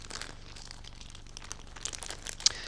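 Marinated pork cubes are massaged in a plastic bag, giving close, irregular crinkling and rustling of plastic with a sharper crinkle near the end.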